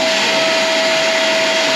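Vacuum cleaner running inside a camper van, a loud, close, steady whine with a constant high-pitched tone and even airflow noise, uninterrupted and without voices.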